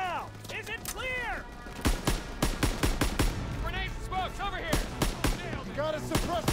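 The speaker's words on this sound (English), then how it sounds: "You gotta suppress the machine gun!" Rapid machine gun bursts in Call of Duty WWII, loud close cracks in repeated clusters amid a chaotic battlefield, with shouting soldiers' voices talking over and between the shots.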